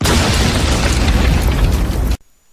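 Explosion move from the Pokemon Black/White Wi-Fi battle game: one loud, sustained blast that roars across the full range for about two seconds, then cuts off abruptly to near silence with a faint high tone.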